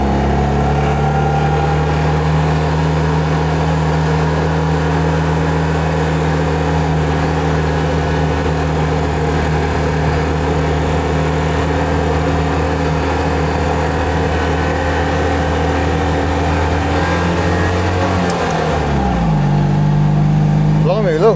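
A Citroen 2CV's small engine drones loudly and steadily as the car climbs an uphill mountain road on a trip through Austria, Italy and Slovenia. Near the end the pitch drops sharply with a gear change, then settles.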